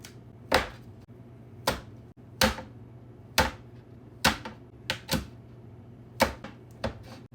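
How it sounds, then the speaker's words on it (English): A knife cubing sticks of cold butter on a cutting board: about nine crisp, sharp chops at an uneven, unhurried pace, close and clear over a quiet background with no talk. "2 sticks of cold butter. I'm just gonna cube these up a little bit."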